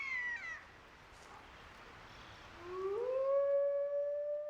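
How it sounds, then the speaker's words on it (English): Wolves in the Siberian wilderness howl, with one long wavering call fading early, then a second howl rising into a sustained, clear tone, drawn out and carrying over quiet open air with no voices. "Howling, the wolf call to arms, gathers the pack and warns other wolves to back off."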